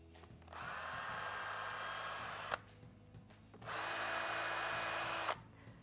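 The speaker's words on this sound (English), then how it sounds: "Now be careful when you're drilling these pilot holes because there's no stop on this." A power drill bores pilot holes for a hinge on a DIY built-in wooden desk, two steady whirring bursts of about two seconds each, separated by a short pause, close and fairly quiet.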